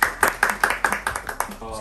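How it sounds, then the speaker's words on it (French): Rhythmic clapping from a small group at a lively gift contest, about nine sharp, evenly spaced claps in quick succession, close and loud, fading out near the end. "On applaudit, s'il vous plaît."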